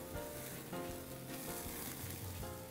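Lamb sizzling on a grill after being flipped, a dense continuous hiss and crackle, close and fairly even throughout, with no one talking.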